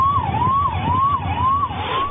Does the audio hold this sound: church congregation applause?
no